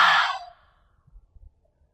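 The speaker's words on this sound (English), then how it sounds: "open mouth exhale to release" A single open-mouthed exhale during a restorative yoga breathing round, a soft breathy rush lasting about half a second, close and clear, followed by near silence with a few faint low thumps.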